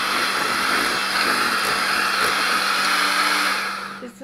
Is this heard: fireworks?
no